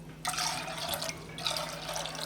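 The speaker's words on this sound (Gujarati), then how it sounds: "તેને બાફવા માટે આપણે એમાં 3 વાટકી પાણી નાખીશું" Water is poured onto chickpeas in a pressure cooker, a close splashing, bubbling pour that comes in two bursts with a short gap between them, and no talk.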